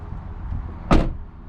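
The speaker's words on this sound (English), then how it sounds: "close the door" Door of a 2021 Triangle RV Revel camper van closing with a single sharp, loud thud after a brief stretch of low background rumble.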